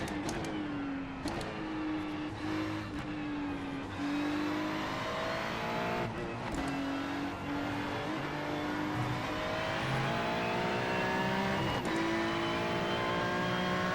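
Ferrari 296 Challenge race cars at Oulton Park in a VR racing game, engines revving loud and steady with gear-change dips and shifting pitch, faint tyre squeal and other cars close by.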